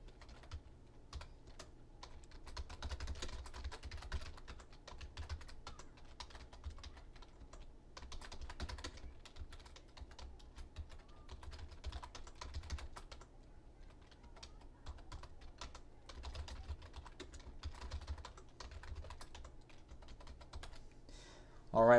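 Steady typing on a computer keyboard, a quick run of light key clicks going on without pause, fairly close and moderately quiet over a faint room hum.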